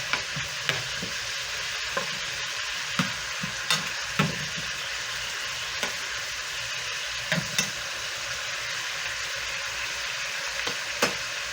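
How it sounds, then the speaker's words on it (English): Food cooking down in a pan on the stove, a steady sizzle with repeated sharp scraping clicks of a spoon or spatula stirring at irregular intervals, close and alone. "Stir this up a little bit. Let that cook down."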